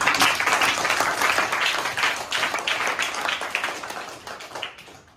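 A group of students clap for a classmate, a dense sustained round of applause that stays steady for several seconds before tapering off at the end, with no talking.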